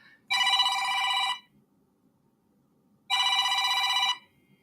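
A phone rings with an incoming scam call, two loud electronic ring bursts of about a second each separated by a two-second pause, clear and close.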